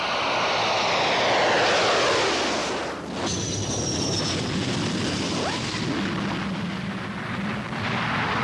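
Carrier aircraft flying in formation during in-flight refueling, nose probe catching the drogue on the refueling line; a loud, steady jet engine roar with a sweeping rise and fall, close and continuous.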